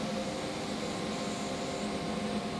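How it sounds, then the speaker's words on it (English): A steady, continuous machine drone with broadband whooshing from a CNC machine's vacuum pump and spindle running together at constant level, no voices. "This is with the vacuum pump and the spindle running."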